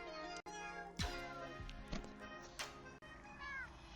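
A cat meows several times, with short cries of varying pitch, close and clear, against quiet indoor background with brief sounds between calls.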